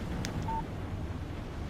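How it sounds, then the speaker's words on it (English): A short phone text message alert chimes once in the Alan Wake video game, a brief electronic tone heard over a steady low background hum. "Text message from Barry."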